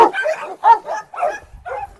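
A Cane Corso barks in a quick series of five or six sharp, close, loud barks, with a low rumble faintly beneath toward the end.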